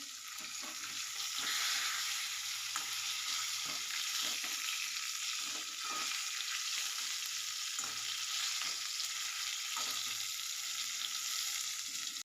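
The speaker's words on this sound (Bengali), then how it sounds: "মাছগুলো ভেজে নেবো।" Koi fish fry in hot oil in a home kitchen pan, giving a steady, loud sizzling hiss that runs continuously with small crackles and occasional stirring bumps.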